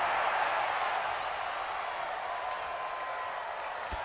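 A simulated stadium crowd in a Madden 20 football game, Cowboys at Jets, roars steadily as a dense, even wash of cheering noise that holds at moderate level for a few seconds.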